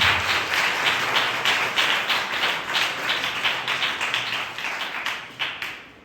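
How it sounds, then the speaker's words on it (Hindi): An audience at a church sermon breaks into loud, sustained applause, dense clapping filling the whole stretch and tapering slightly toward the end. "प्रभु के लिए एक बार जोरदार ताली बजाएं।"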